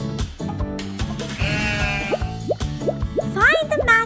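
Cartoon-style sheep bleats, several short wavering calls, sound over playful background music with bouncy plops and boings, while a voice talks in a children's learning setting.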